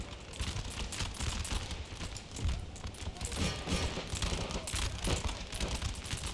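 Musket volleys in Empire: Total War roll on in a dense, continuous crackle of massed gunfire with dull thuds, steady and busy throughout, heard from a distance with no voices.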